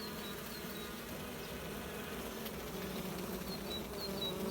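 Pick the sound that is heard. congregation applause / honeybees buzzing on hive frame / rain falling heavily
honeybees buzzing on hive frame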